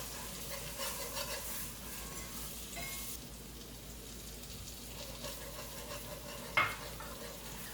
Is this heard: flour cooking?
yes